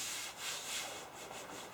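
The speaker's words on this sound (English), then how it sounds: "then I slowly smoothed it down like this" Leatherette being smoothed down by hand over the surface of a 1918–1920 Union Tool Chest Co. machinist's chest during restoration, giving a soft, continuous close rubbing and brushing sound with gentle swells, no talking.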